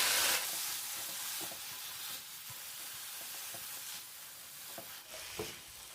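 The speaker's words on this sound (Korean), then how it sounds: "이렇게 절여뒀던 무를 부어요" Salted radish poured into a pan of perilla oil, setting off a loud sizzling burst that settles into a steady frying hiss with occasional stirring scrapes, no talking.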